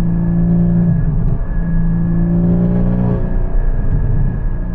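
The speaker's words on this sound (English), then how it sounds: "The engine loves to rev." A Porsche 981 Cayman GT4 engine revs loudly and close, climbing twice in pitch with a brief dip between the pulls, its mechanical drone steady and strong throughout.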